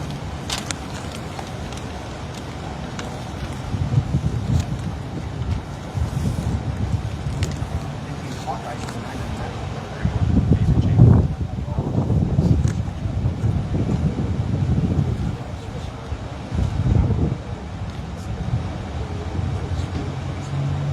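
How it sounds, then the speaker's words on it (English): Gusty outdoor wind buffets the microphone in strong rumbling surges that peak midway, while traffic-like noise lingers in the background. "The wind almost took the hat away."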